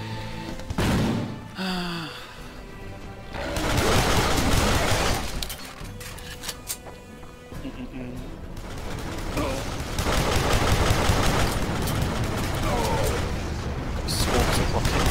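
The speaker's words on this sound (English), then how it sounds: "Swarms of rockets in the house." Swarm of rockets in Duke Nukem Forever, a chaotic run of repeated explosive bursts and crashing booms in dense clusters, loud and near, with someone talking between the blasts.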